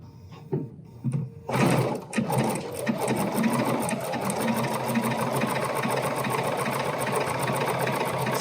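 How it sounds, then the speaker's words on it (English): A BERNINA sewing machine stitches a seam through layered fabric, starting with a few short bursts and then settling into a steady, fast, close mechanical whir with a rapid rhythmic tick. "And then you're just going to sew that seam. Just keep it centered all the way down."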